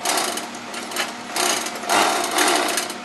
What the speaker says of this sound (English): Now we will finish the crotch area by overlock stitching.